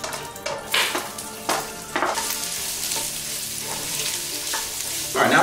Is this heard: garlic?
yes